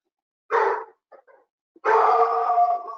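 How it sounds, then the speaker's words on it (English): A dog indoors gives two loud, close barks after a knock at the door: a short bark, a few faint yips, then a longer drawn-out howling bark, with silence around them. "that's just my dog barking. Somebody knocked on the door."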